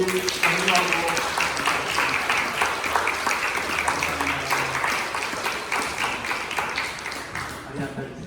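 A church congregation claps in thanks during a Thanksgiving Sunday service, sustained, even applause filling the hall, with a voice faintly heard underneath.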